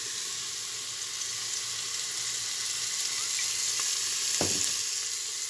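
Food frying in oil with spices: a steady, close hiss of sizzling oil runs throughout, with a faint clink near the end and no voices.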